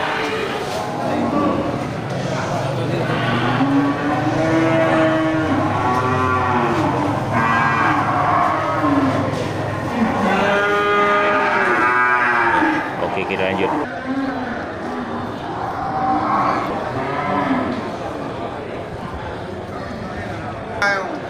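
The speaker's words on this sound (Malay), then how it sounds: "Ya, pada ini juga terlihat satu ekor sapi Bali ya. Sapi Bali banteng." Bali cattle lowing at a busy animal market, several drawn-out moos rising over a steady crowd murmur while someone talks nearby throughout.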